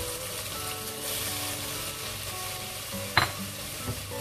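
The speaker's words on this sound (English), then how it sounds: "Give this all a quick stir again." Vermicelli and spices sizzle in a hot pan while being stirred, a steady close frying hiss with a sharp scrape of the utensil near the end.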